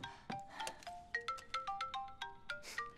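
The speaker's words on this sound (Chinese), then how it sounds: "手机响了。" A mobile phone rings with a repeated melodic tone of rising and falling notes. The ringing plays steadily and close, alone without talk.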